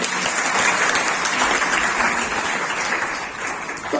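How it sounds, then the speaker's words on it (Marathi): An audience applauds loudly and steadily throughout at a Marathi-language speech event, a dense wash of clapping with no speech over it. "एकदा जोरदार टाळ्या आपण वाजवूया."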